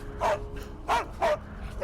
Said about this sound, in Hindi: कुछ एक गलियां पार कर भीमा के घर के बाहर बंधा कुत्ता रघु को देखते ही जोर जोर से भौंकने लगा,